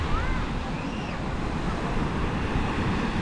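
Ocean surf breaking at a beach in the Philippines, a continuous broad wash of waves with wind buffeting the microphone, fairly close and steady throughout.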